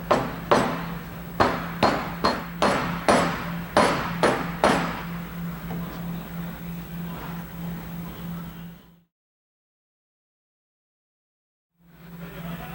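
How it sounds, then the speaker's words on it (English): Sharp soft-face hammer taps drive a stopper into a hydraulic concrete paving vibrator in a quick run of about nine strikes, then a steady low hum continues before cutting to silence and returning briefly. "using the soft face hammer and"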